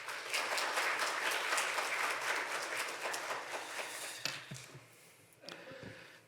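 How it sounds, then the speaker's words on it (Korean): Church congregation applauding as a pastor comes to the pulpit, a thick burst of clapping that stays dense for about four seconds, then thins into scattered claps and small room noises. "큰 박수로 한번 환영해 주시면 감사하겠습니다"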